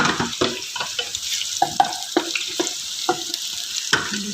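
Onions browning in ghee, a soft sizzle broken by repeated clacks and scrapes of a spoon stirring the pan at close range.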